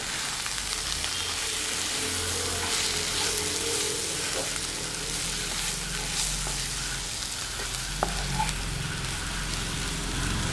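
Brinjal masala with garam masala powder frying over a low flame in a pan, giving a steady, dense sizzle with faint stirring scrapes throughout.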